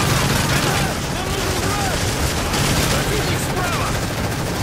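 Gunfire in Call of Duty: Modern Warfare 3 on the Wii, with dense continuous game shooting and explosions filling the whole stretch at steady loudness.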